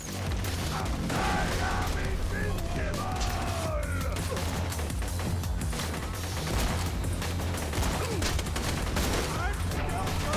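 Heavy, continuous gunfire in Borderlands 2, overlapping shots, explosions and mechanical clatter layered over a thumping game soundtrack, with players talking underneath.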